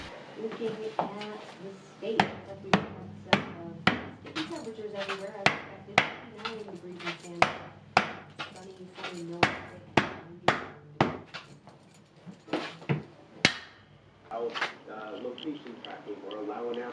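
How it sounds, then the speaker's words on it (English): A rubber tire mallet or dead blow hammer seats the side ring of a split-ring rim on an Isuzu Elf camper, landing about twenty sharp, evenly spaced blows at close range while a person talks over the work. "The rubber head of a TG35 or any Ken Tool rubber tire mallet or dead blow hammer can also be used to install the side"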